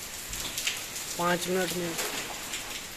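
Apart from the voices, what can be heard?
rain falling in Jammu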